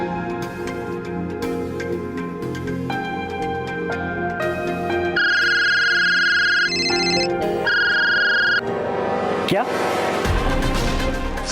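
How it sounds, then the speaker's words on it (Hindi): A phone ringtone late at night sounds in two repeated electronic tonal bursts over a steady dramatic music bed, fairly loud and close. "सो सॉरी राजीव, इतनी रात को फ़ोन किया।"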